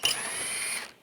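An 8mm socket ratchet loosening a bolt on a 2013-2016 Dodge Dart 2.4L during coolant reservoir replacement, a single rapid clicking run lasting about a second, close and clear.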